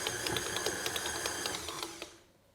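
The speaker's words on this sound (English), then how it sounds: "knead the dough with the dough hook attachment for about 10 minutes" A stand mixer with a dough hook kneads sticky cinnamon roll dough at medium speed, its motor whirring steadily with faint rhythmic knocks and clicks before stopping near the end.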